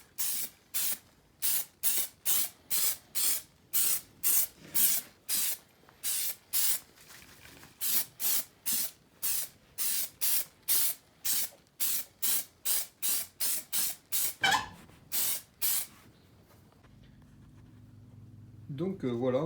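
Spray can applying anti-rust primer to steel wheel rims from a Simca car: many short bursts of hissing spray in a steady rhythm, close and loud, ending with a quieter stretch.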